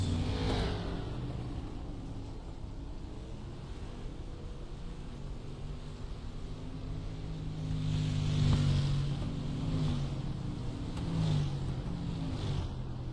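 Street stock race cars lap South Boston Speedway in the iRacing sim, a steady pack of engine drone with a surge in intensity midway as the cars accelerate, moderately loud and continuous with no talking.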